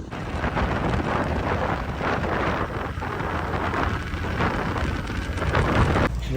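Rain pours down steadily and fairly close, a dense continuous hiss of drops striking surfaces with no pause for the whole stretch.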